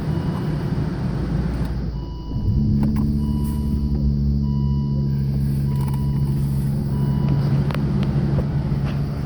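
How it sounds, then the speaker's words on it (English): A 2005 Volvo S40 engine idles fast just after being started, a low rumble that settles into a steady, loud, close droning hum that holds without talking. "For some reason, this idles at a very high RPM when you first start it on."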